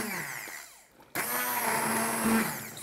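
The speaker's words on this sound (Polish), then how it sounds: "Zupka już jest ugotowana i teraz ją zblenduję." A hand blender purees a cooked green vegetable soup, its motor kicking in abruptly at full whir after a quieter moment and running loud and steady, close up.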